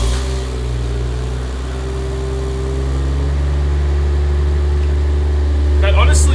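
A Toyota Chaser JZX100 with a 1JZ engine idles with a low, steady exhaust drone, muffled by a Varex muffler with its valve closed, heard close and continuous with a slight rise near the end.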